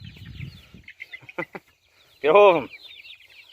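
Escaped backyard chickens cluck in a few short bursts with one louder, drawn-out squawk, fairly close, while people talk and move around them.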